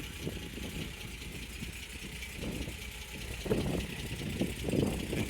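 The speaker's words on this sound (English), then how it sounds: "As you can hear, it's ticking over nicely," A 1969 MG MGC roadster's engine idles quietly, a low, even rumble with soft rhythmic pulsing that swells slightly near the end, heard at moderate distance without voices.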